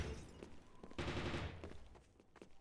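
Rapid gunfire bursts crackle through a video game match in the Summer Skirmish 2024 tournament, with a dense volley around the middle and scattered shots before and after, no talk over them.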